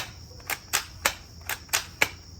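Moukelo M416 gel blaster fired in manual mode: six sharp, evenly spaced snapping shots about a third of a second apart, close and fairly quiet, with no talk.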